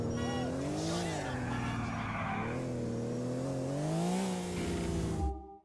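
A car engine drones steadily in Grand Theft Auto IV, rising and falling in pitch with faint tire noise, then cuts off abruptly at the end.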